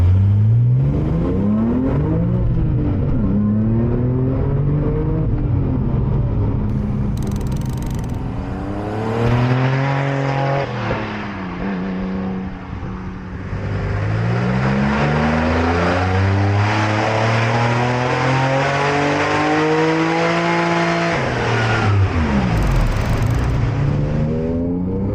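Car accelerating hard in first gear as its tires lose traction, engine note climbing repeatedly through rising sweeps, briefly dipping then revving up again, loud and close with no talk.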